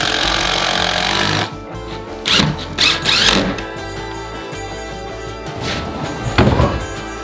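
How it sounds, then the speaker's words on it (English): A power drill drives screws to fix a heavy hidden safe into place, a loud continuous whirring punctuated by several short bursts of higher revving and a clunk near the end. "At this point, it only needed a few screws to be held in place."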